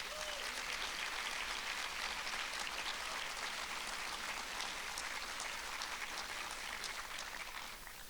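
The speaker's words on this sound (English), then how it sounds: "Can we please give them a huge round of applause?" Sustained, dense applause from a large audience at a speaking event with General David Petraeus, a steady wash of many hands clapping at once that holds evenly for several seconds before easing off.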